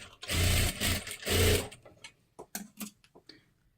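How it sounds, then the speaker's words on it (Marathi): A sewing machine double-stitches a tassel on a blouse in two short, close whirring bursts, followed by soft scattered clicks and handling noises. "आणि डबल शिलाई मारून घ्यायची आहे."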